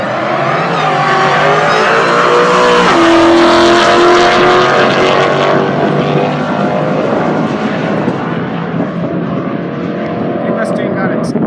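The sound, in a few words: Chevy and Mustang drag racing down the strip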